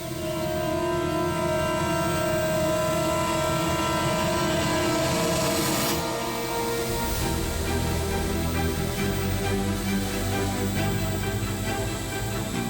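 A drone carrying a small pouch of diamonds flies off, its loud steady motor whine and buzz filling the air throughout and easing slightly partway through as it pulls away.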